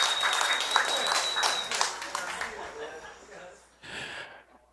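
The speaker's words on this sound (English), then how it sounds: "Round of applause, please" Applause from a gathered crowd at a wedding before the best man's speech, steady clapping that gradually thins out, then a short final burst near the end.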